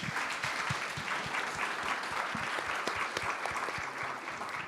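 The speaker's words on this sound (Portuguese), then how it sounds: "Uma salva de palmas para o Celso" Steady applause from an audience, dense clapping with no voices, continuing evenly throughout.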